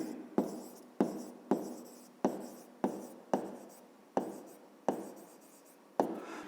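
A pen writes by hand on paper during a fifth-grade geometry exercise, about ten short scratchy strokes in a steady rhythm, each starting sharply and fading out, close and fairly quiet with no talking.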